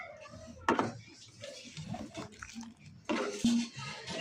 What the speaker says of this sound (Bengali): এখন শুধু নাড়াচাড়া করব।